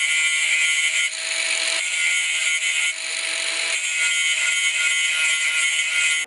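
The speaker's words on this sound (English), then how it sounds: "I'm just going to grind this keyway a bit" A grinder working a keyway on a gear drive shaft, a loud, steady high-pitched metallic whine with slight shifts in pitch and pressure, running continuously for several seconds before stopping abruptly.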